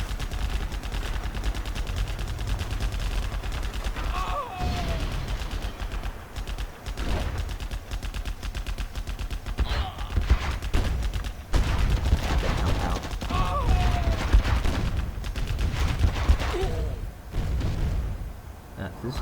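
Soldiers firing in the real-time strategy game Command & Conquer Generals Zero Hour: dense, continuous rattling bursts of small-arms and machine-gun fire with occasional heavier thuds, over a busy battle din, with a voice talking through parts of it.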